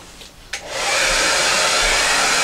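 A hair dryer starts with a soft click and then blows steadily and loudly over a wet acrylic paint pour on canvas, a continuous close whoosh with no speech.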